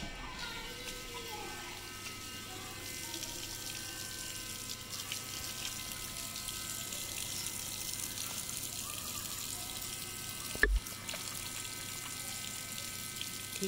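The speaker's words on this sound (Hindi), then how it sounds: "अब हाथ धोते हैं" A tap runs steadily while someone washes their hands beneath it, the water a faint, even rush throughout, broken once near the end by a brief knock.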